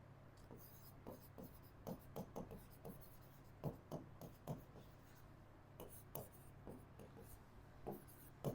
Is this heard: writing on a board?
yes